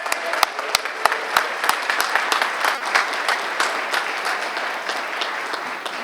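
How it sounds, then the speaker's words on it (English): Applause for a student athlete at a high school signing day, with a few sharp close claps at the start swelling into steady clapping from a crowd that continues throughout. "So please give Chase a great round of applause."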